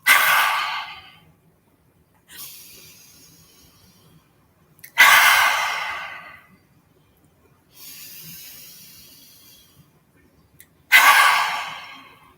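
Long, deep breaths during a yoga breathing exercise: three strong exhales alternate with softer inhales in a slow, even rhythm, heard up close in an otherwise quiet room.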